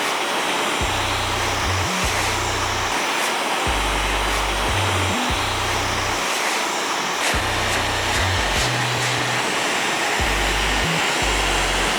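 A hair dryer on high heat and high speed drying hair during a mid fade haircut, blowing as a loud steady roar throughout, with low motor tones that shift repeatedly as it is moved or adjusted.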